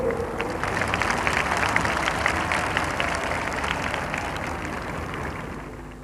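A large crowd applauds during an Independence Day speech, sustained dense clapping that swells and then slowly fades, fairly loud and without speech over it.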